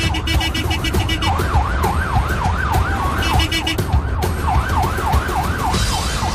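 A loud wailing ambulance siren sweeps up and down repeatedly, close by, over the rumble of traffic and engine noise.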